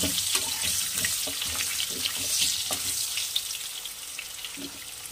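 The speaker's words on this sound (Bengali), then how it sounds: "আলুটা এবারে ভেজে তুলে রাখবো লাল করে" Diced potato cubes frying in hot oil for a Bengali snakehead fish curry, a steady hiss and sizzle with scattered crackles and pops.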